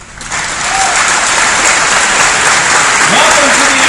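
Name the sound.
conference audience applause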